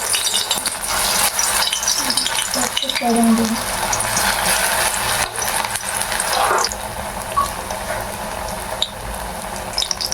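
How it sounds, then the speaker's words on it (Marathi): Fenugreek-leaf vadas deep-frying in hot oil over a low flame, giving a continuous close crackling sizzle with scattered pops and a few brief clinks, while a voice speaks faintly at times. "अगदी मंद आचेवर हे वडे आपल्याला तळायचे आहे"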